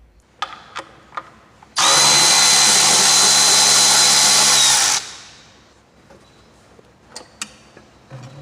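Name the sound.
power tool removing Jeep air hat with 13/16 socket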